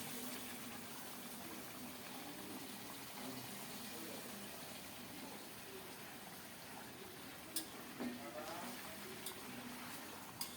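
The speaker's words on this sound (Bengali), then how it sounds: "এখন দিচ্ছি ফোটানো গরম জল" Boiled hot water is poured into a cooking pot, a faint, steady gushing that continues evenly for about ten seconds, with a few small clinks near the end.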